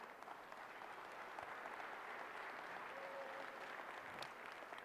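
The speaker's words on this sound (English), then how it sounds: "I do want to give them one more big round of applause" Steady applause from a crowd at the National Western Stock Show's junior market steer drive, broad and continuous at a moderate distance, sustained evenly for the whole stretch without any talk over it.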